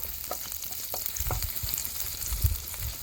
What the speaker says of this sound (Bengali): এটা আমি একটু ভাজা ভাজা করে নেবো